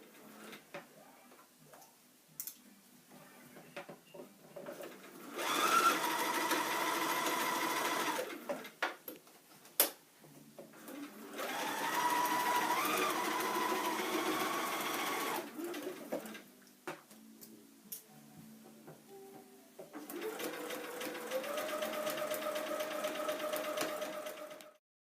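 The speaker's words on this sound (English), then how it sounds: "I'm finally starting to sew." A sewing machine stitches through layered fabric in three long, steady whirring runs, each lasting several seconds and separated by pauses with light clicks and handling noises.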